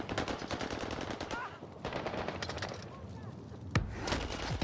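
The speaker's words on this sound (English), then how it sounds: "Runs out of ammo, switches over to the Thompson." Thompson submachine gun firing in Call of Duty Warzone, a loud sustained burst of rapid automatic fire with a brief pause, then more shots and a sharp single crack near the end.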